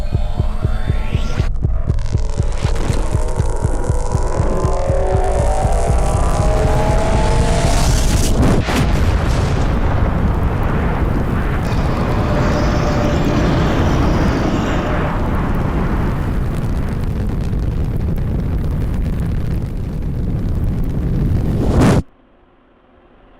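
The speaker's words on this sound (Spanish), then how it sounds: "esta energía es liberada en una sola explosión devastadora" Minecraft Warden in a video game building a deep, pulsing throb that swells into a massive, sustained roaring explosion rumbling for many seconds before cutting off abruptly into quiet.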